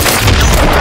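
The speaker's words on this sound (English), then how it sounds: "Hostiles launched a cruise missile." A cruise missile explosion in the video game Call of Duty MW3, a loud deep boom that rumbles through a brief moment, close and heavy.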